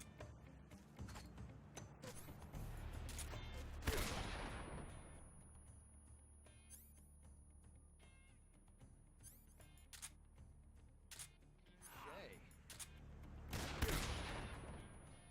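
Gunfire in the video game Metal Gear Solid 3 comes in scattered shots and short bursts, with two louder cracks that ring out and decay, over a quiet game background with no talking.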